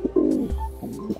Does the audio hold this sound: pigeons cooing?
yes